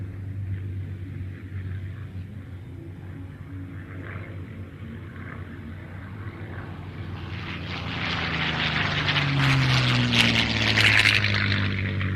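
A B-17 bomber's propeller engines drone during a banking pass at the Joint Base Lewis-McChord airshow, a low throbbing hum that swells into a louder, rushing roar as the plane passes closer.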